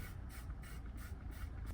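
Cleaning solution is sprayed in repeated short hissing bursts onto a Steeda precision air filter from an S650 Mustang, close and steady with no talk.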